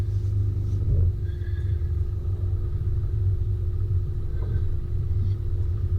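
An off-road vehicle climbing rock steps on Creek Rd in the Watagans, a continuous low engine rumble held close and steady throughout, with no talk.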